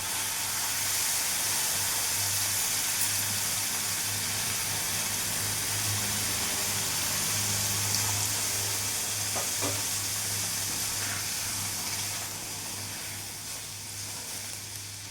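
Semolina halwa with fried cashews, raisins and sugar sizzles and hisses steadily in a pan as water goes in, a continuous frying sound with faint stirring and no voices.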